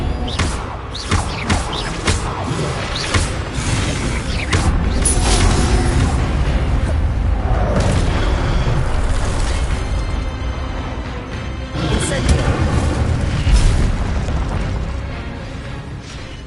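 Spells cast in the video game Hogwarts Legacy, including a fire spell and a disarming spell, burst out as loud booming impacts and whooshing blasts layered over continuous game music and rumbling effects, with no speech over them.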